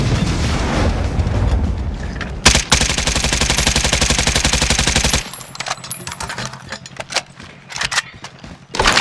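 Loud automatic gunfire in Call of Duty: Modern Warfare, a dense sustained rattling burst with heavy booms, then scattered sharp shots and clatter trailing off.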